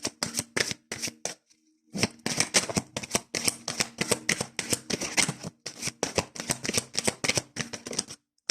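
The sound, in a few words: shuffling oracle cards for a card reading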